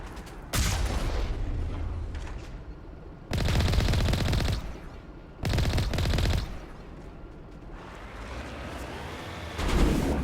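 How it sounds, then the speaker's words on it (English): Automatic turrets in Mass Effect 1 Legendary Edition fire on Rachni in loud bursts of rapid gunfire, three main volleys with booming impacts between them and a rising whine near the end. "the turrets are shooting the Rachni"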